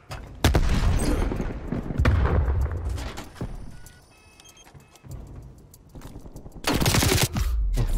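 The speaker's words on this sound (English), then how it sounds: "Throwing frag." Frag grenade thrown in Call of Duty: Black Ops Cold War during a Hardpoint match, amid loud bursts of gunfire and explosion-like blasts with a quieter gap in the middle.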